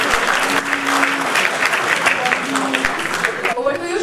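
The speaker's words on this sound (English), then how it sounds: "one round of applause for him" An audience at a college cultural night at Chennai Mathematical Institute claps in steady, sustained applause for several seconds, with voices faintly mixed in.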